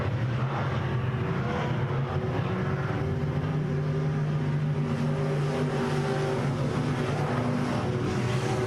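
Race cars in a KR Cup event at RPM Speedway roar steadily around the track, a continuous loud engine drone with a sustained pitch and no talk.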